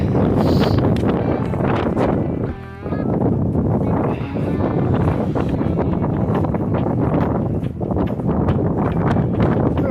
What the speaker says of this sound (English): Walking straight into the wind.